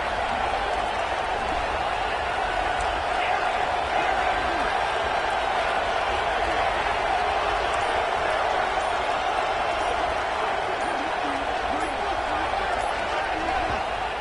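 Stadium crowd in the College Football 26 video game roars steadily and loudly during a late two-point conversion attempt, a dense unbroken wall of cheering that holds at full volume throughout.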